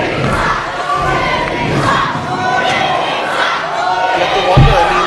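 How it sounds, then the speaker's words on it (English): Wrestling fans at a North West Pro Wrestling show roar and cheer in a sustained, dense wall of crowd noise, with shouts rising and falling throughout and a louder swell near the end. "Crowd solidly behind Paul Preston."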